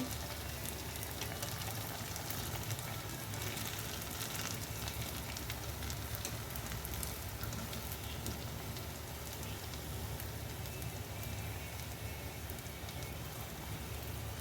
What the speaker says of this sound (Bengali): দেখুন এরম করে সবগুলো ভাই ভাজতে হবে